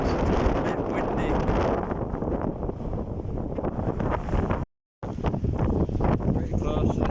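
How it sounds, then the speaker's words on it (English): Strong wind buffets the microphone near a wind turbine on a nature reserve walk, with a loud, continuous roar and gusty rumble, briefly cutting out before resuming. "Sorry if you can't hear the voice, it's a bit windy."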